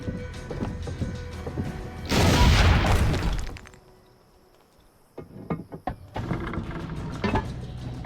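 An artillery cannon fires in Assassin's Creed Brotherhood: a loud, broad boom and crash swells for about two seconds, falls to near quiet, then scattered impacts and rumbling follow amid steady game ambience.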